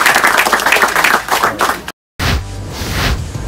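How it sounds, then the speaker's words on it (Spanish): Audience applause at a Panamanian rural livestock program, a dense patter of many hands clapping that cuts out briefly and then resumes, fairly close and lively. "un fuerte aplauso para ustedes"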